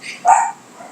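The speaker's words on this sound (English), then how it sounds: "Oh, the dog's barking." A single sharp dog bark, close and loud, then quiet room tone indoors.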